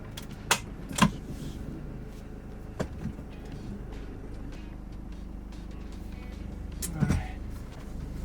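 A Sprinter van drives on a brake test run after new brakes and rotors, a steady low road rumble inside the cab with a few sharp clicks and knocks, fairly quiet throughout.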